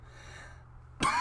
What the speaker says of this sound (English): my throat's getting a little scratchy and I'm having to stop and cough